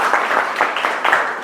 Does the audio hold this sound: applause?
yes